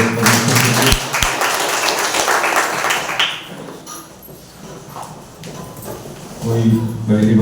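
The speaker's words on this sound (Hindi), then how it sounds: "आइए एक बार जोरदार तालियां हो जाए उस परमेश्वर के लिए" A church congregation at a Sunday service claps loudly for several seconds, the dense applause thinning out and fading as a voice speaks over it.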